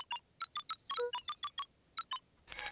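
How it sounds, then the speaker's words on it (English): Keypad entry in the video game Beacon Pines: a quick run of short electronic beeps in an irregular rhythm, about a dozen presses, faint and close, ending in a longer buzzier tone. "Luca cracked his knuckles and entered the letters into the keypad."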